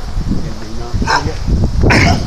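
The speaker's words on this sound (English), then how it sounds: "See the thing barking?" A dog barks outdoors on a walk around Delphi, Indiana, a few short barks at moderate distance, mixed with rustling and people talking nearby.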